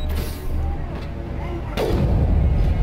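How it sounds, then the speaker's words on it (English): Gunfire in the video game Mass Effect: heavy booming shots over a dense, rumbling game soundscape, loud and close, with a strong burst near the end. "I will freaking shoot."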